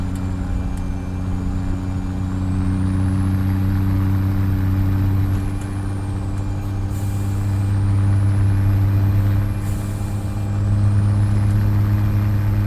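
A Peterbilt 389 semi truck engine runs in a trucking simulation, a loud steady low diesel drone with a strong even rumble throughout, a faint high whine drifting above it, and no talk.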